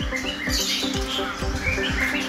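Several small caged songbirds, starlings and a canary, chirp and tweet over a low steady hum, with a repeating soft thump in the background.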